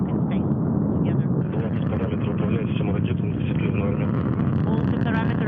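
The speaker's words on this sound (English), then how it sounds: "Engines at maximum thrust and liftoff." Soyuz MS-21 rocket at liftoff, engines at maximum thrust, a loud, continuous low roar that fills the whole clip without letup, with a voice faintly audible beneath it.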